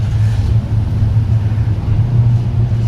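LS-swapped 5.3 V8 in a 1987 K20 Squarebody Suburban idling steadily, a deep, even low rumble close by with no talk over it.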